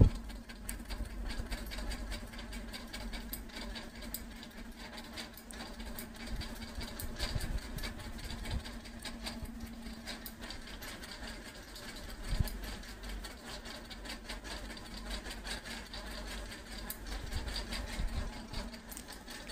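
A tailoring sewing machine stitching a folded quarter-inch seam along fabric for a neckline runs in a quiet, continuous mechanical whir with a low hum throughout, with no talking.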